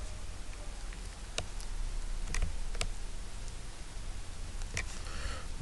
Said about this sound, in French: je vais écrire dessus « Imprimer la liste »